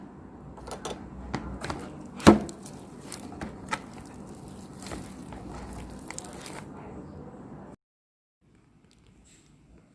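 Pumpkin mantou dough is kneaded and squeezed by hand, giving repeated soft slaps and thumps, one of them a loud slam, before the sound cuts off to near silence.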